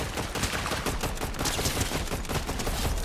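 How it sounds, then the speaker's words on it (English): Rapid, dense bursts of Fortnite gunfire crackle nonstop for a few seconds, steady and fairly loud, like an intense firefight with no voices. "I heard some gunfire over here"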